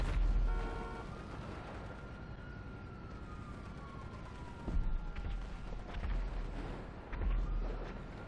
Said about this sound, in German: Ich höre es nur explodieren.